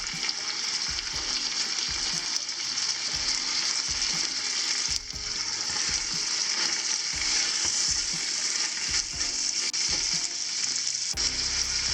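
Garlic and thyme sizzling in a pan on an induction hob for a cassoulet, a loud continuous frying hiss broken by repeated scraping and stirring knocks, with no talking.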